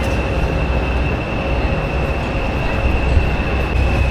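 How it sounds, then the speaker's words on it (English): Two Class 20 diesel locomotives idle at a station platform with a loud, steady low rumble and a sustained high whine, constant throughout with no talking. "here are the two Class 20 locomotives on the far platform"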